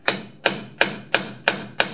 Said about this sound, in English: just do it light tap with your hammer